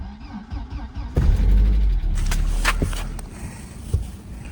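A car engine cranks and catches in freezing cold around minus fourteen degrees, a sudden loud rumble bursting in and settling into a rough idle, with some clicks and handling noises nearby.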